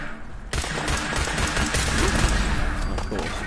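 Rapid gunfire from the video game Fallout 4 bursts out in dense fusillades that begin abruptly and keep hammering loudly for several seconds, with a voice talking now and then underneath.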